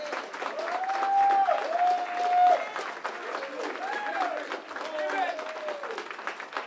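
Audience applause for staff at a community reentry program graduation, a sustained crowd clapping with whoops and cheering voices over it, fairly loud throughout.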